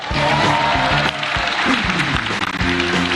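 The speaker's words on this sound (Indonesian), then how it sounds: "Beri tepuk tangan yang meriah untuk Denny Sumargo." A studio audience at a televised stand-up comedy grand final bursts into loud, sustained applause welcoming a guest judge, dense clapping filling the room over background music.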